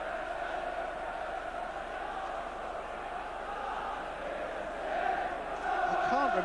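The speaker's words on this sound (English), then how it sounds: "The crowd are absolutely tremendous, aren't they?" Liverpool fans at Villa Park during a 1988 FA Cup fourth-round match, a dense sustained roar of crowd singing and chanting that swells louder toward the end, with a faint voice over it.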